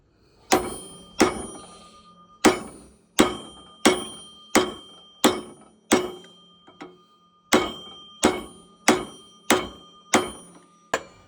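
Metal hammer repeatedly striking a steel punch during a rebuild of a Farmall Regular tractor, about fourteen sharp ringing clangs at a steady, deliberate pace, close and clear with brief ringing decay after each blow.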